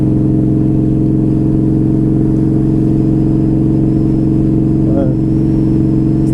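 A cruiser motorcycle engine rumbles loud and constant while riding, a steady droning throb with wind noise and someone talking over it throughout.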